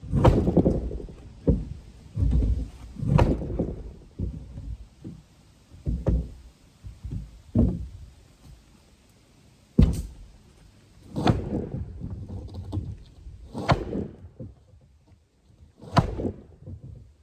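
Wooden boards are hammered in the woods while building a tent platform, with irregular heavy thuds and knocks spaced across the stretch, some echoing, with quieter shuffling and handling noises between blows.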